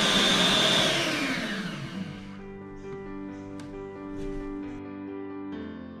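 A small electric hand mixer whirs loudly while beating vanilla cake batter for a Santa cake, its pitch starting high and dropping as it slows, then a steady lower hum with faint clicks.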